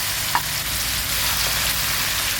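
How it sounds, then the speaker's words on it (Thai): Tofu frying in very hot oil until golden, a dense, even hiss of bubbling oil with one small pop near the start. "เราก็จะเอาเต้าหู้ลงไป ทอดให้เหลืองๆค่ะ"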